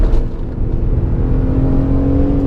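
A BMW E36 M3 engine pulls steadily under light throttle on a winding mountain road, a close, loud, droning growl with a rising tone and no talk over it.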